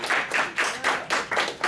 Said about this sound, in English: Give Dimitri a round of applause.